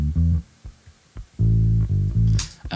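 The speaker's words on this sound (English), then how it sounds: "The bass without compression sounds like this." An uncompressed bass guitar line plays alone in short plucked notes, the attacks jumping in level, then a longer sustained low note with a bright noisy burst near the end.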